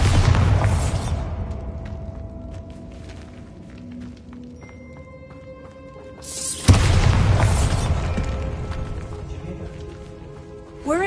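A Bombarda spell explosion in the Hogwarts Legacy video game, with a deep booming blast opening, a second sharp blast near the middle, and a low rumbling decay between them inside a tomb.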